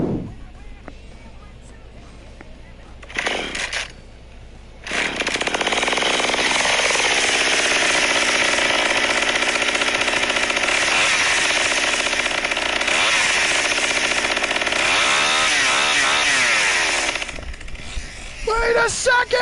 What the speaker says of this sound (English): I see 2 chainsaws. I hear 2 chainsaws.